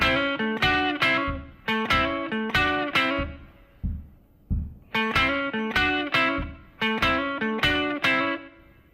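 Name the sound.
blues guitar riff in A with hammer-on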